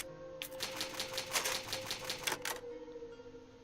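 An old typewriter used to save progress in Resident Evil clatters through a quick run of about a dozen crisp keystrokes, then falls quiet over a soft background drone.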